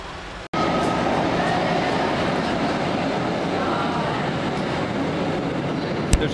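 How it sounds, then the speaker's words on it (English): Trams rumble through a nearby tunnel in central Rouen, a loud, steady low roar of rail traffic that holds evenly for several seconds after a brief gap near the start. "There's a tunnel nearby through which the trams operate when operating through the center, town center."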